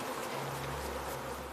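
Honeybees in good, vigorous condition fly around a hive during a colony check, giving a steady, dense buzz that runs unbroken and fairly loud with no voices over it.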